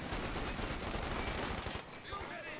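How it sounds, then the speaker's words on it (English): Sustained rapid .50 cal machine gun fire in Company of Heroes 2, dense continuous bursts filling the soundscape, easing off toward the end with scattered battle noise. "Got some shots fired with the 50 cal in the house in the middle"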